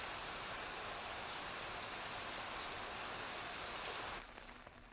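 Rain falls on farmland in Maharashtra's Gondia region, where paddy crops stand in the fields: a dense, steady downpour hissing evenly for several seconds before dropping abruptly to a softer patter.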